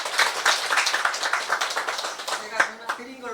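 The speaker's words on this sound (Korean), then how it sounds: "큰 소리를 한번 부탁드릴 때 박수 좀 부탁드리겠습니다" Audience clapping at a Korean poet's book launch event, a scattered burst of hand claps that thins out toward the end while people talk over it.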